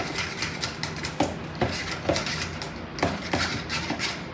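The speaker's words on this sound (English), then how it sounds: "Mix this up real good." Keto strawberry cheesecake fat bomb ingredients are stirred in a bowl, giving steady scraping and repeated sharp utensil clinks against the dish, close and fairly loud with no talking.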